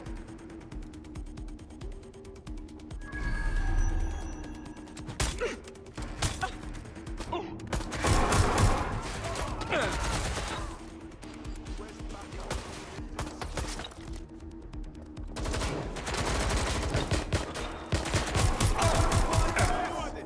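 Gunfire in the video game Watch Dogs: Legion, bursts of rapid shots and mechanical clatter coming in clusters over a low game drone, loud and close, with occasional voices.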